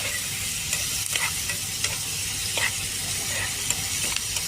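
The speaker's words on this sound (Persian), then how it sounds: "یه خوبی که سرخ شد رو هم میزنیم، نمک، فلفل، ادویجات هم میزنیم" Food frying and being stirred in a pan with salt, pepper and spices, a steady sizzle running throughout with scattered scraping stir strokes, close and fairly loud, no talking.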